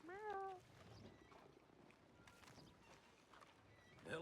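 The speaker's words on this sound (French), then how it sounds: "Il y a un chat, il fait miaou" A cat gives a short, fairly loud meow at the start in a Western-themed setting, followed by quieter background noise and a brief voice near the end.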